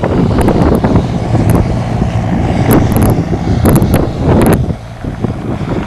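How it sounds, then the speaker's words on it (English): Vehicles roll past over faulted road pavement, a loud, continuous rumble with wind buffeting and several thumping pass-bys spread across the clip. "You can hear with the vehicles which pass by the faulting which we have here."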